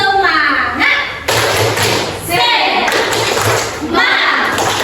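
A classroom of children claps out a rhythmic chant, loud thuds in repeated bursts mixed with young voices shouting along, close and energetic.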